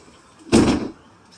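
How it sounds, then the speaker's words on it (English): A small bathroom door in a camper swings shut with a single short, close thud and brief rattle, set against a quiet room with no speech. "The little door to the bathroom just closes."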